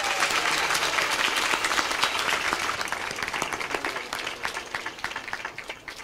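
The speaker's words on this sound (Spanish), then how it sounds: "yo quiero que empecemos con un aplauso para los de Ciudad Bolívar." Loud applause from a congregation at a Catholic Mass honoring the Virgen del Carmen, strong at first, then thinning into scattered claps toward the end.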